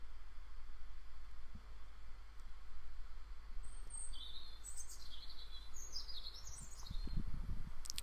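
Field recording of a dawn bird chorus that includes a common swift: faint high chirps and calls rising over a steady hiss and low rumble, heard at a distance.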